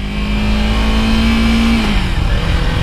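A motorcycle engine runs close and loud through a neighborhood ride, holding a steady tone at around 25 mph before the pitch drops, with constant engine and road noise.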